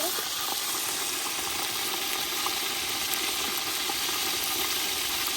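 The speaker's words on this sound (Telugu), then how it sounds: "ఇప్పుడైతే మటన్ బాగా కలుపుకోవాలి" Mutton sizzles and fries steadily in a pan while being stirred and mixed, a loud continuous hiss close up with faint scraping and no talking.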